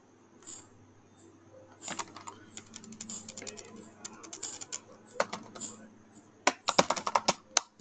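Keys clatter on a computer keyboard as a Linux sudo service command is typed, with light scattered taps and then a quick dense burst of keystrokes at the end, close and moderately loud.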